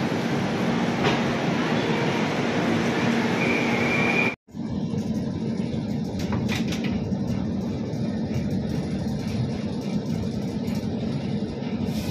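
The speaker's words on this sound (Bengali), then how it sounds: "5 মিনিটের জায়গায় 10 মিনিট ট্রেন দাঁড়িয়ে কানপুর সেন্ট্রাল ছাড়লো" The Rajdhani Express (12301) pulls out of Kanpur Central station with a loud, steady rolling rumble and rushing hiss, broken by one brief dip before the continuous roar resumes.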